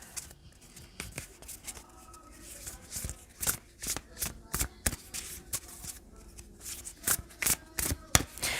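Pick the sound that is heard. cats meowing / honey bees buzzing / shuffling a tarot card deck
shuffling a tarot card deck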